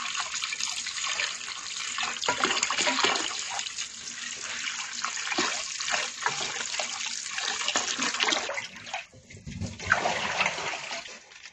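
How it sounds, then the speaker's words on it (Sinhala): Running tap water splashes over cut fish pieces being washed, a continuous close gushing with shifting splashes and no talk. "හරි කැබලි කරගත්ත මාළු මේ විදිහට හොඳින් ගලාගෙන යන ජලයෙන් හොදගත්තා නම් හරි"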